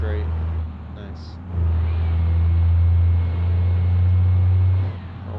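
Turbocharged car engine in the BeamNG driving game, a loud, steady low drone that surges and holds as it revs, with a faint whistle above it, and a voice talking briefly at the start.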